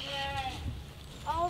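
Sheep bleat in wavering, tonal calls at the start and again at the end, fairly close, with a low rumble and some background voices.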